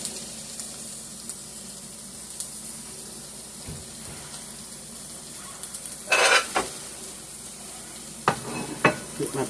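Chopped marinated steak sizzling in a pan, a steady close hiss broken by a few louder stirring scrapes and spatters.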